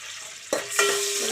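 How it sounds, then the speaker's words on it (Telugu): Mustard seeds, cumin and split lentils hit hot oil over a high flame for sambar tempering, bursting into a loud close sizzle with a second crackling surge, no voices. "తాలింపు గింజలు వేస్తున్నాను. ఆవాలు, జీలకర్ర, పచ్చనపప్పు, మినపప్పు,"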